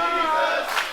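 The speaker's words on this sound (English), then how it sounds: "You hear the crowd already" A wrestling arena crowd rhythmically chanting and cheering, a loud sustained wash of many voices for under a second.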